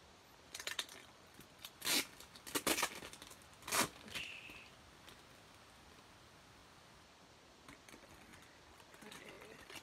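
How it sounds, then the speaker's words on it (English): A Hobonichi Weeks cover being taken out of its plastic packaging: several crisp rustling crinkles and tearing bursts close up, then quiet with faint rustles. "Remove it from the packaging."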